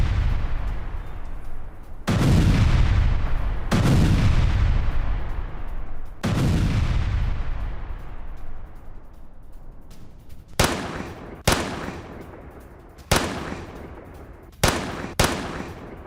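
Gunfire during a Russian bulletproof blanket test: heavy booming shots with long decaying echoes, followed by a quicker run of five sharp cracks, loud and close, no talking.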